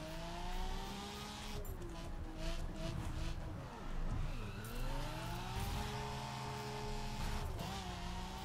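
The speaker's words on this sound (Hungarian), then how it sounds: "Kettesbe bőg úgy a motor, mint az Isten nyilván hallod." A car engine in the racing video game The Crew roars in second gear, a loud sustained revving drone with pitch rising and dipping as it accelerates and shifts, heard steadily throughout.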